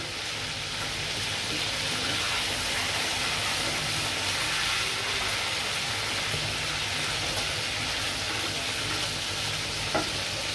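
Chicken kofta fry in hot oil as they turn reddish-brown, giving a loud, continuous, hissing sizzle that stays even and close throughout, with a faint tap near the end.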